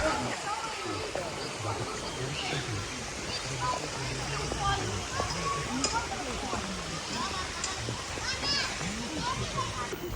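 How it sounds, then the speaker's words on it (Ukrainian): A river rushes steadily past an evening riverside promenade in Solochyn, with children's voices and people chatting nearby over the constant watery wash. "Люди сидять над річкою, слухають шум річки і релаксують."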